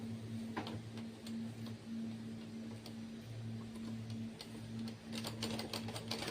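Sewing machine stitching a blouse, a steady low motor hum with faint rapid ticking of the needle running continuously and fairly quiet throughout.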